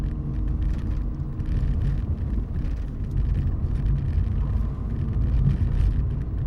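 A 2013 Fiat 500 Abarth's turbocharged engine held near 2,000 RPM, a steady low rumbling drone heard from inside the cabin, continuous and fairly loud with slight wind noise and no talk.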